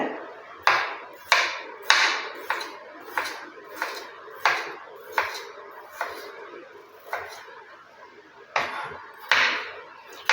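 A knife chopping a peeled potato into small pieces on a cutting board, about fourteen sharp, moderately close chops in a steady rhythm with a brief pause near the end, heard without talk.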